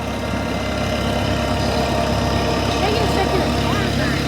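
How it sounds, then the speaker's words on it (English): Gas-fueled Minneapolis Moline tractor with a 336 cubic inch engine, in original condition, runs steadily in an autumn harvest parade, a low continuous engine drone with crowd and voices mixed in throughout. "336 cubic inch engine, just the right size of tractor"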